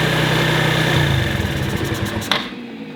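A Genuine Buddy 125 scooter engine idles close by after carburetor cleaning, a steady low hum with uneven pulsing, then a brief higher mechanical whine near the end before it quiets.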